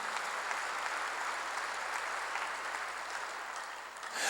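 A church congregation at a sermon claps together in a sustained, even round of applause, heard from some distance and fairly soft, tapering slightly near the end.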